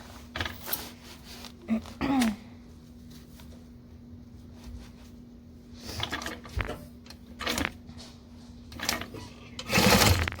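A home sewing machine runs a quarter-inch seam in short intermittent bursts, with a steady low hum between them and faint handling noises.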